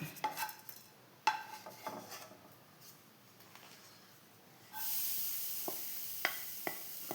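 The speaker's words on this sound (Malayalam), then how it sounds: "ഇനി നമുക്ക് തേങ്ങ വറുക്കാം" Grated coconut roasts in a pan: scattered sharp clicks and scraping taps from stirring, then a steady soft sizzle rises midway with a few more distinct utensil knocks over it.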